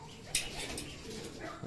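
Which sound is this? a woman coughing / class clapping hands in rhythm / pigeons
pigeons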